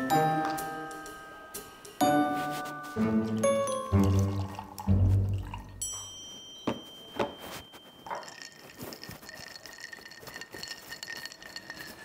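Water pours into a glass with gurgling and splashing, following a few sustained musical notes at the start, then the liquid trickles and drips steadily at close range.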